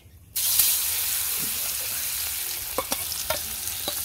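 Fish frying in a pan on a clay stove, a steady loud sizzle that starts abruptly and holds throughout, with a few sharp pops and crackles near the end.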